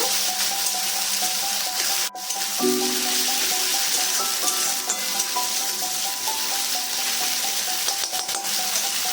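Masala for a katla fish and potato curry sizzles steadily in a hot pan as water is added and it is sautéed, with occasional stirring scrapes and utensil taps over a constant close frying hiss.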